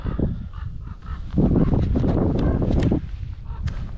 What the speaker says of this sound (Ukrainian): ворона каркає, круки каркають на цвинтарем